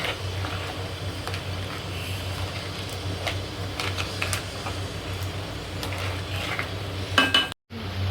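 Malvani-style crab curry being stirred and mixed in a pan, with steady scraping and clinking of a utensil against the metal over a low background hum, close and moderately loud, no talking.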